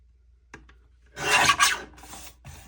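Rasping scrape of a blade trimming a handmade journal cover, a few faint ticks and then a loud sustained cutting rasp with a short second burst, close and with no talk.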